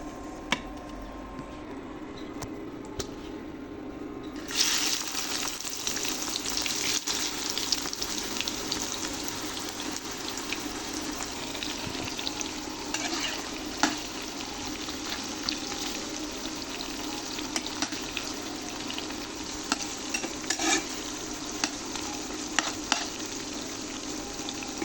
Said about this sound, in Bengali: এক এক করে আমি সবগুলো ভেজে নেব।